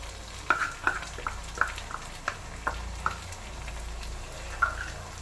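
Tomato puree stirred into onions, green chilli, cumin and bay leaf frying in oil for mutton mandi, giving a low steady sizzle with a series of sharp spoon scrapes and clinks against the pan, close up and without voices.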